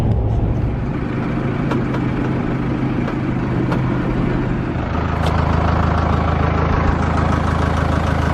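A John Deere tractor engine idling nearby, giving a steady, fairly loud low rumble that holds the same level throughout, with no one speaking.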